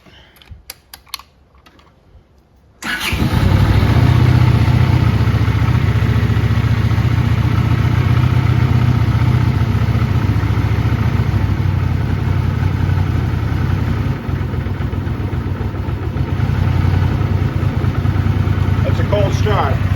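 A 1982 Honda GL500 Interstate motorcycle cold-starts after a few quiet seconds and settles into a loud, steady, rumbling idle that runs close and unbroken to the end.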